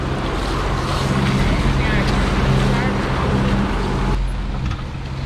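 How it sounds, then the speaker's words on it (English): A sailboat's motor running, a loud steady low drone mixed with wind and water rush. "Hence we're using the motor."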